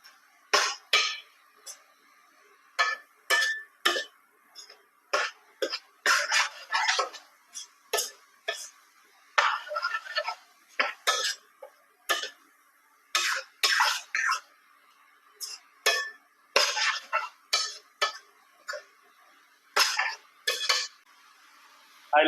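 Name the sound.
stirring chopped ridge gourd and tomato in a cooking pan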